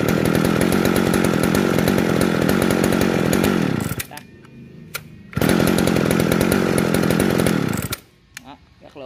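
A Shindaiwa 350 chainsaw (E350AV) runs loud at high revs, dropping to a low idle around four seconds, revving again, then idling once more near the end.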